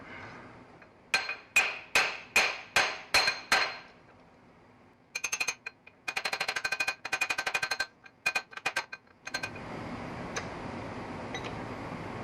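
A hammer strikes metal in a steady series of ringing blows against a metal block while rebuilding a car drip rail, followed by a rapid clattering run of lighter taps, fairly faint against background hum.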